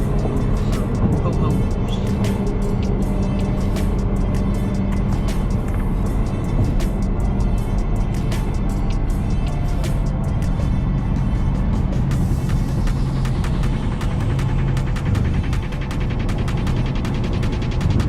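A BMW M3 driving through heavy traffic, heard from inside the cabin as a steady, continuous engine drone and road rumble that stays loud and even throughout.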